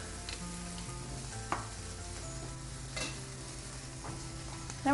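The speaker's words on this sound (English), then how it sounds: "Okay, and stir those around a little bit." Black olives stirred into a sizzling filling in a frying pan, a continuous close sizzle broken by a few soft scrapes and knocks of the utensil, with no one talking.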